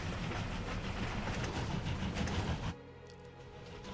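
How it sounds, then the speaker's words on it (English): The Cactuar train in World of Final Fantasy rumbles with a dense, loud rolling rattle and hiss that cuts off abruptly near the end, leaving a quieter mechanical hum. "Cactuar train."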